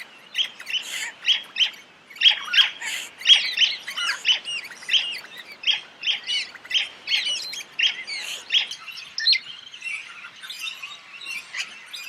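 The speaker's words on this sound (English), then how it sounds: "It makes a characteristic cussit-cussit call." Parrot giving a repeated two-note cussit-cussit call, sharp chirps in quick pairs that carry on steadily, close and clear against a quiet background.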